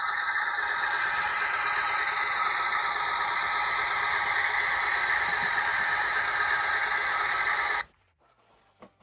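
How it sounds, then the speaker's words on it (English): A sound decoder in a small model tram built on a tiny tram chassis plays a steady, loud engine drone that runs unbroken and then cuts off abruptly near the end, leaving near silence. "I have muted the engine, so you should only hear me now."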